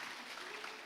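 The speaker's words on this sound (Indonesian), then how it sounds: "Gak apa-apa, saudara boleh kasih tepuk tangan." A church congregation claps during a sermon, a brief, faint patter of applause heard from a distance.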